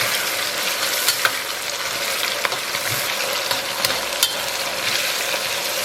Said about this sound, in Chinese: 再来勺黄豆酱，小火给它煸出香气